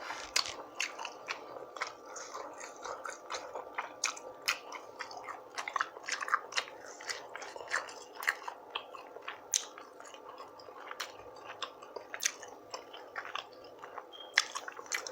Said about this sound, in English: Sorry if I'm doing a lot of slurping.